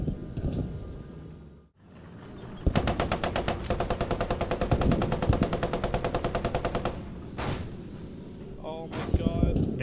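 Rapid automatic gunfire crackles through a Post Scriptum tank battle with a Vickers tank, a long sustained burst of evenly spaced shots after scattered earlier firing, loud and close, with voices talking over the fight.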